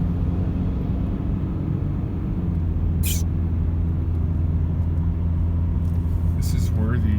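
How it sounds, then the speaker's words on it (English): A car drives along a mountain road with a steady, close engine and road rumble under the cabin. A person talks over it, and a few short clicks and squeaks come from inside the car. "Driving through the mountains."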